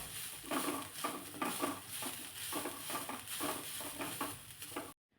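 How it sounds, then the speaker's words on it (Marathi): Sautéed cauliflower with grated carrot gets stirred in a pan for a homemade burger filling, a spatula scraping in repeated rhythmic strokes over a soft sizzle, close and fairly quiet, ending abruptly in silence. "मी चांगला अगोदर फ्लावर परतून घेतला आणि त्यानंतर मग एक प्लेटभर किसलेलं गाजर घातलेलं आहे"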